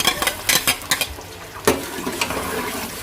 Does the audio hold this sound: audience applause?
no